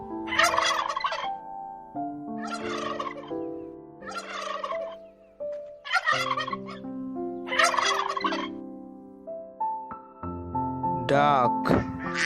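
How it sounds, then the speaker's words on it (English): A turkey gobbles in repeated rattling bursts, loud and near, with a rhythmic run of calls and a brief higher, more tonal sound near the end. "Turkey."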